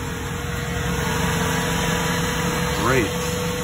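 Toyota Camry (2002–2006) engine running at a steady, close drone, with one brief rise in pitch near the end.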